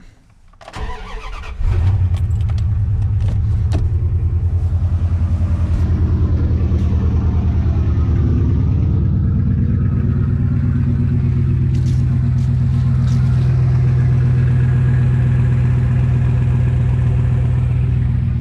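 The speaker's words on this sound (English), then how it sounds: "Although the MagnaFlow catback, in my opinion, even though it sounds pretty good, it is a little too quiet for my taste." A 2001 Dodge Ram with a MagnaFlow catback exhaust cold-starts after sitting a couple of days, catching after a brief crank and settling into a loud, steady, deep idle rumble that runs uninterrupted with no talking.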